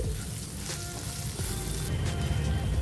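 Masala-stuffed okra (bhindi) frying in a pan with asafoetida, a loud continuous sizzle with faint stirring scrapes and no voices.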